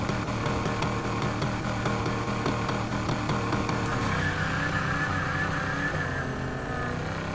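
Race cars in the Need for Speed Heat video game rev and launch together, a loud continuous engine roar with rising pitch as the cars pull away, heard without talk.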